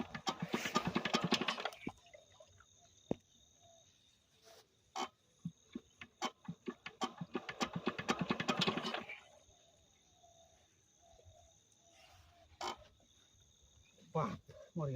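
A shallow irrigation pump engine for watering a potato field is cranked and fails to start, with bursts of rough chugging that sputter out between quieter gaps, outdoors, with people talking nearby.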